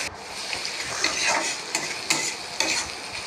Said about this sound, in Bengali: তারপর সরষা বাটা দিয়ে ভালো করে নেড়ে চেড়ে